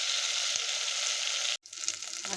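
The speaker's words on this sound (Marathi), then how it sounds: "हे चांगलं परतून घ्यायचं. सगळं तेल सुटेल तोपर्यंत परतून घ्यायचं." Onion, garlic, coconut and ginger masala sizzles steadily in hot oil, a dense broadband hiss with a brief cut near the end before the frying sound returns slightly thinner.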